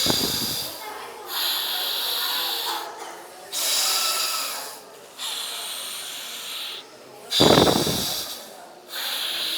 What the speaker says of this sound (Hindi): अनुलोम विलोम।